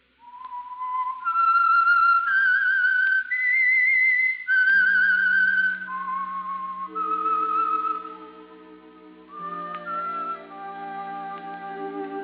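Old-time radio theme for The Whistler: a lone whistled melody, clear and haunting, rising and falling in sustained notes, joined partway through by soft low orchestral accompaniment.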